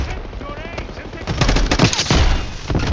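Video game gunfire, sustained machine-gun bursts and sharp shots, loud and close, with radio-style game voices talking over the shooting.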